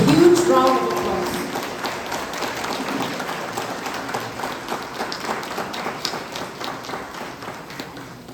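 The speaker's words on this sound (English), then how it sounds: "Let us welcome ma'am with a huge round of applause" Audience applause at a college commencement day ceremony, steady dense clapping that starts loud and slowly thins over several seconds, with a voice briefly audible at the start.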